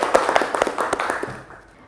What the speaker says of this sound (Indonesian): tepuk tangan nih buat kita semua